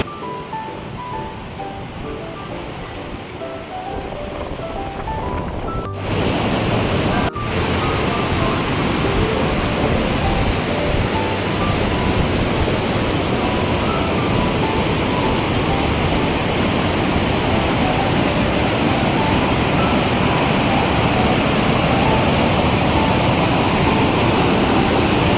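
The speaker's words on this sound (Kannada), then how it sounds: "ಎಷ್ಟು ಫೋರ್ಸ್ ಬರ್ತಾಯಿದೆ ನೀರು." Forceful water at Coco Falls roars as a dense, steady rush that swells louder after a few seconds and then holds a constant, enveloping wash, with no speech.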